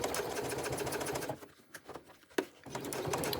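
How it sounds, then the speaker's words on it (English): A sewing machine top-stitches a quilted pouch in short bursts: rapid steady stitching, a pause of about a second with small handling clicks, then stitching resumes, close and alone. "I like to take it nice and slowly and do about 2 stitches at a time before I pivot my presser foot"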